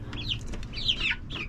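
A small backyard flock of chickens, including one rooster, clucking and chattering in overlapping calls close by at a homestead, with no talk.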